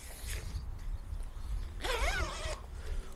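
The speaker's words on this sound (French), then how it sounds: "Et la petite fermeture éclair aussi de ce côté-là." A zipper on a Rev'it Sand 3 motorcycle jacket is pulled closed in one quick, close rasping stroke that lasts under a second, set against a low background hum.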